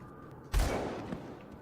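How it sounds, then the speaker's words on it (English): A single sharp gunshot of celebratory gunfire in the video game Grim Dawn bursts out, then decays into a rumbling echo, fairly faint overall and with no voices. "Celebratory gunfire."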